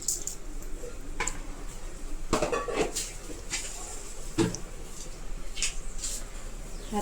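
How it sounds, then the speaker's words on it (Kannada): Mustard seeds spluttering in hot oil, heard as scattered sharp pops and crackles close by, irregular and spaced a second or so apart, with no talking. "ಈಗ ಎಣ್ಣೆ ಬಿಸಿಯಾಗಿದೆ. ಸ್ವಲ್ಪ ಸಾಸಿವೆ ಸ್ವಲ್ಪ ಹೊಡ್ಕೊಬೇಕು."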